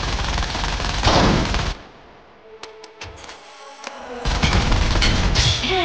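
Bursts of rapid gunfire come from a new dual-wield weapon in the video game Peacekeeper Elite. Dense loud volleys open and close the clip, with a few sharp separate shots in a quieter gap between them.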